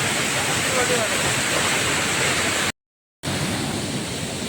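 Loud, continuous roar of Seetharkund waterfall, a steady rushing wash that cuts out briefly to silence before resuming.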